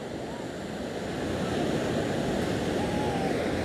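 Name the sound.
beach waves at Tramandaí seafront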